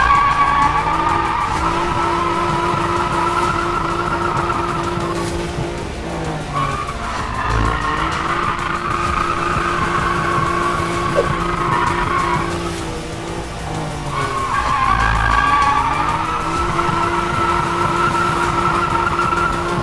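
An E46 BMW drifts in a donut at a drift school, its tires squealing loudly and almost continuously, the screech rising and falling with each rotation over a steady engine drone.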